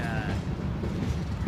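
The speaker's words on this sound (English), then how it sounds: "And of course there's a train coming by, which is very" A train rolls past nearby with a continuous low rumble and rattling wheels, brief metallic squeals at the start, filling the whole stretch.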